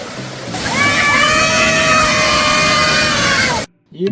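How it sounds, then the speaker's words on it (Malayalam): Rushing water at Kattuppara waterfall, a steady broadband roar filling the whole clip with some faint tonal streaks above, ending abruptly in near silence. "ഈ മൊട്ടക്കുന്നിൽ നിന്ന് വരുന്ന വെള്ളമാണ് വെള്ളച്ചാട്ടമായി മാറുന്നത്."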